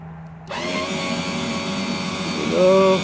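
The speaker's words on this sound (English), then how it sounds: "the motor will raise up" Electric power trim motor raising a 125 hp Force outboard, a steady whining hum that starts abruptly and runs continuously, rising slightly in pitch and loudness near the end as the motor reaches full tilt.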